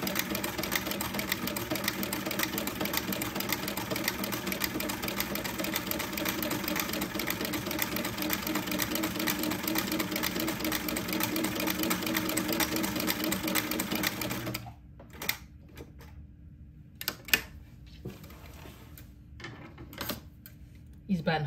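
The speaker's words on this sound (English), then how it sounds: "then just proceed to sew another buttonhole" A domestic sewing machine stitching a buttonhole on a baby daygown runs loud and steady for about fifteen seconds, then stops, leaving a quiet room broken by a few short whirring bursts and clicks.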